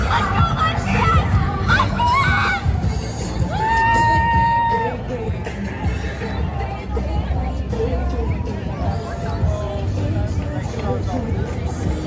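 A crowd at a Pride parade shouts and cheers in the street, a dense babble of voices with occasional whoops and a whistle, with nearby talking mixed in.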